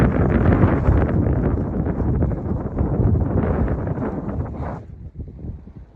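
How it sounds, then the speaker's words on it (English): Strong wind on an Appalachian Trail mountaintop buffets the microphone in loud, continuous gusts, easing slightly toward the end. "Windy."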